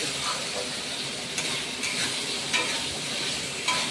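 Fish curry spice masala sizzles in hot oil as water goes in, a steady close frying hiss with a few brief louder spits, no talking.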